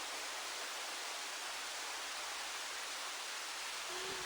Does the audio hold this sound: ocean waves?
yes